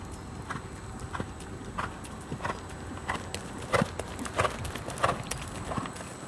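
Horse cantering on the right lead during a riding training session, rhythmic three-beat hoofbeats repeating steadily on soft ground, moderately close and fairly faint, with no voice over them.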